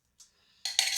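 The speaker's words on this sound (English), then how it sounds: "So I will mix it all up." Metal cutlery scrapes and clinks against a dish while rice and lentils are stirred, a faint early tap followed by two louder, close scraping strokes at the end.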